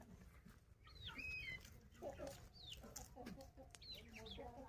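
Village chickens and ducks gather expecting food, giving scattered soft clucks and short calls close by, fairly faint against a quiet rural outdoor background.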